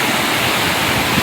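Water pours down a hidden monsoon waterfall beside a temple in Konkan, a steady, loud, broadband rushing roar with no pauses.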